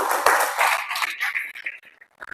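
Audience clapping for a student who asked a question in a classroom lesson, a dense burst of many hands that thins out and fades toward the end.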